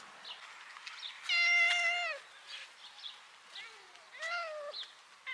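A cat meows twice, a long drawn-out meow followed by a shorter one, with faint rustling and quiet chirpy sounds in between.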